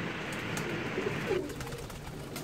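Pigeons coo softly a few times over a steady background hum and rustle, the low throaty calls fairly close.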